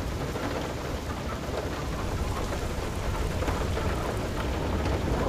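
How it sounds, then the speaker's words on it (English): Steady, dense hail storm battering down in FAR Lone Sails, a constant loud rushing patter with no break or voices over it. "Oh, this is some dangerous hail."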